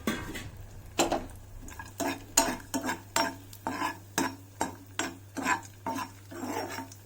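Cashews and raisins fry in a pan while a spoon scrapes and clinks against the metal in a steady rhythm of about a dozen strokes over a faint sizzle.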